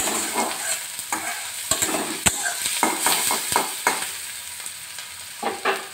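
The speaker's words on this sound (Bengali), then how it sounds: "তো পেঁয়াজটা প্রায় ভাজা ভাজা হয়ে এসছে।" Onions frying in a pan for a chicken curry, a loud close sizzle with frequent stirring scrapes and sharp spatula clicks against the pan, heard without voices.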